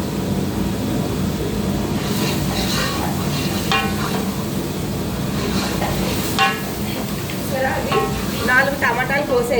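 Food stirred and frying in a pan while cooking fish curry, a steady sizzle with scraping strokes running throughout, fairly loud and close.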